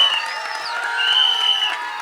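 A live audience at a film event claps and cheers for actor Dhanush. The crowd applause is continuous, with whoops and high whistles running through it, and it swells slightly midway.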